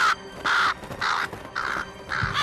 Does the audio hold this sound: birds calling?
yes